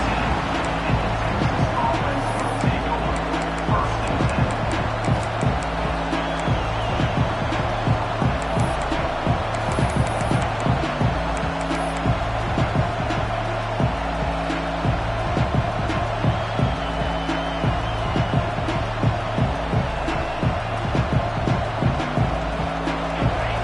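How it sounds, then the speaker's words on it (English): A loud, dense crowd roar fills the whole stretch, a continuous wash of stadium noise with swelling cheers and scattered shouts. "Listen to the crowd energy here"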